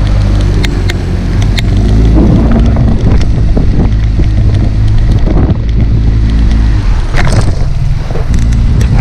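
A small TRUEKIT Discovery 330 boat with a Suzuki 9.9 short-shaft outboard, its steady motor drone running continuously beneath heavy wind buffeting and water splashing, loud and close throughout.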